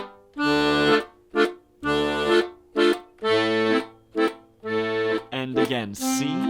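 Accordion Stradella bass chords are played in a waltz pattern, with longer held chords alternating with short stabs in a loping triple rhythm. The sound is loud and close, and a brief livelier flourish comes at the end.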